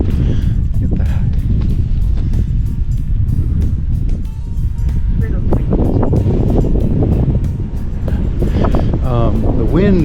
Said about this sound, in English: The wind is really picking up now and it's freezing.